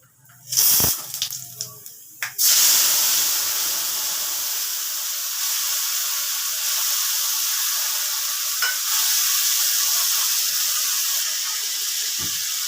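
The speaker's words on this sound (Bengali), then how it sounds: "এবার দিচ্ছি আগে থেকে ভিজিয়ে রাখা মশলাটা।" Pre-soaked spice paste hits hot oil in a pan for a fish curry (daiyng maach kalia), first with a few knocks and clatters, then a loud, continuous sizzle that holds steady.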